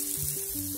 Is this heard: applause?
no